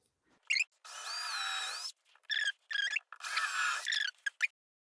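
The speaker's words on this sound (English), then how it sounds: "There are holes in this chimney already, but I drill new pilot holes." A small power drill bores pilot holes into the chimney of a C E Turnbull dolls house, with several whining, squealing bursts of varying length separated by short silences.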